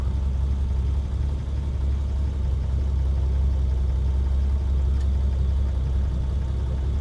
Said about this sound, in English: The motor is a very, very, very unique chime going on.